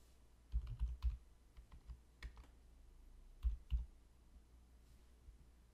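Keys pressed on a computer keyboard while entering an email address, heard as quiet clusters of soft clicks with pauses between them in a calm room.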